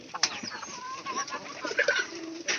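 Pigeons coo and call close by near a house, in a short run of soft throaty notes with brief pauses.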